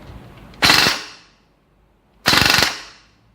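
Two short full-auto bursts from a Lonex AKM airsoft rifle, rapid mechanical cracks resonating through the steel receiver, separated by a pause, close and sharp.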